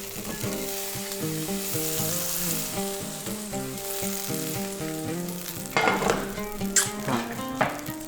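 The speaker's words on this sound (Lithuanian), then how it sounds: "Žodžiu, vištieną sudedam į keptuvę." Chicken sizzles and crackles steadily in a hot pan while cooking, a dense frying hiss with a few louder pops and scrapes near the end, set against melodic background music.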